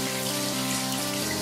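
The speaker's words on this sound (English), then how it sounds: "I'm going to run the water because I'm going to put my hands in there" A kitchen tap runs water steadily into a sink while tofu scramble is being prepared, a short, quiet, even stream with no other sounds.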